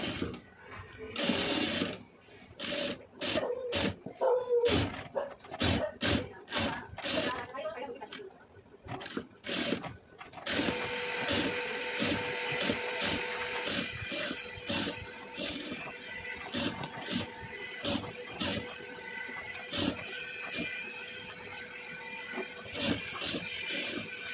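A sewing machine stitches fabric for a blouse neckline, first in short stop-start bursts, then in a longer steady run of rapid mechanical clatter with brief pauses, loud and close.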